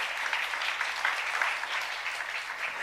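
A church congregation applauding during a youth service sermon, a steady even wash of many hands clapping throughout, with no voices on top.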